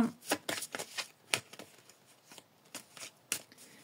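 Tarot cards are shuffled and drawn by hand, a rapid series of crisp, close flicks and riffles in short irregular bursts.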